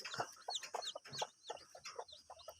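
Chickens resembling jungle fowl clucking close by, a series of short rhythmic clucks and calls repeating steadily with no talk.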